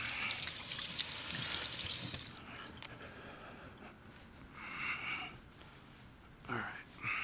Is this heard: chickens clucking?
no